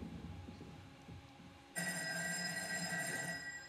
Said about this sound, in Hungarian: Szól a telefon.